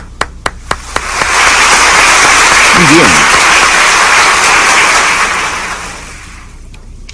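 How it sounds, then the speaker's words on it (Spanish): A Baptist church congregation breaks into loud sustained applause after a few sharp claps, swelling for several seconds then fading; a voice speaks briefly over it. "Denle un aplauso."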